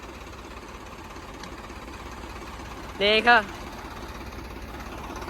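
A tractor engine runs in a farm field being prepared for paddy, a faint, steady low drone and knock continuing throughout, with a brief spoken word shouted nearby partway through.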